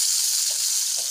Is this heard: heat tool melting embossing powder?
no